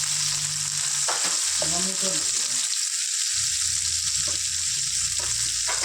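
Onion and five green chillies frying in a pan for a potato-tomato curry give a loud, continuous close-up sizzle and hiss, with occasional stirring knocks and a faint voice briefly in the background.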